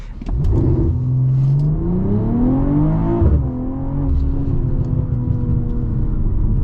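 A 2023 BMW M340i engine during a launch control start that fails because the brake is not fully held, revving steadily upward, dipping, then droning at a loud, steady pitch as the car creeps forward.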